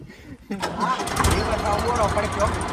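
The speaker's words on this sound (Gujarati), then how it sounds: "ચાલુ થઈ ગયું ટ્રેક્ટર બરાબર" A tractor engine cranks and catches, then settles into a loud, steady rumbling run close by, with people talking over it.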